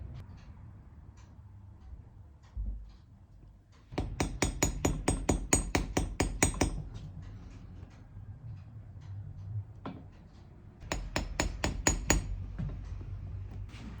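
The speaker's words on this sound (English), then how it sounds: "let's get some tacks in there" A small hammer drives brass tacks into a shoe at a cobbler's repair bench, sharp close metallic taps in two quick rapid bursts separated by a pause, with a few isolated knocks between.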